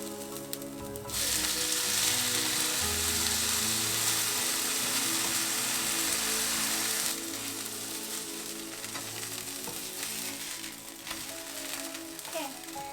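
Rava uttapam frying in a pan just after being flipped, a loud close sizzle that swells, then settles into a softer, steady crackle with faint clinks of the utensil.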